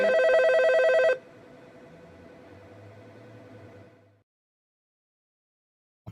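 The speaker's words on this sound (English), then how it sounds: "I'm waiting for the phone to ring." A telephone rings once, a loud trilling bell lasting about a second, followed by a fading low hum and then silence.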